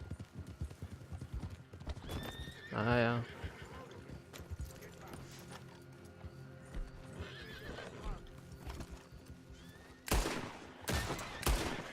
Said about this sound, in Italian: Rubo un cavallo.